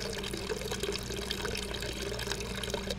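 Water poured onto a plant in the video game Hello Neighbor, a steady close splashing trickle running the whole time over a dense hum of game background sound.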